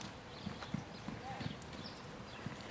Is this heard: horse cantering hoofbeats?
yes